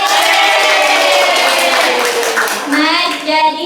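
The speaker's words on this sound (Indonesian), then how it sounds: "Beri tepuk tangan dulu." Children applaud together in a classroom, a dense, steady patter of many small hands clapping that holds throughout, with a few high voices calling out near the end.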